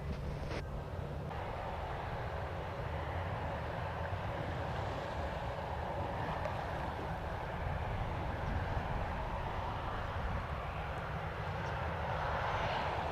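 An airliner takes off at Montego Bay airport in Jamaica, heard as a steady, broad jet engine roar at a moderate distance that holds for the whole stretch with no talking.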